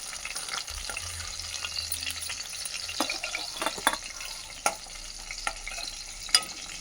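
Gongura (sorrel) leaves fry in the same kadai used for green chillies, giving a soft, steady crackle with a few sharper pops and scrapes, close and moderately quiet, with no talking.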